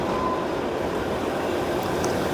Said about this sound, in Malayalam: ട്രെയിൻ പതുക്കെ ഷിംല സ്റ്റേഷനിലേക്ക് അടുക്കുകയാണ്.